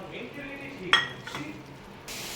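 Curry is stirred in a pan over a high flame: a faint, steady sizzle with scraping stir strokes and one sharp metal clink near the start, then a brief rise in hiss at the end.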